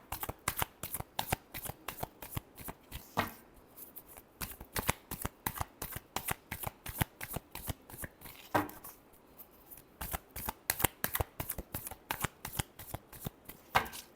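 Tarot cards are shuffled by hand in rapid riffling bursts, close and crisp, with brief pauses between rounds and no speech over it.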